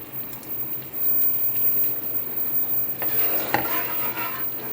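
Whole garam masala spices fry in hot oil with a close, steady sizzle and light stirring scrapes, becoming brighter and louder toward the end.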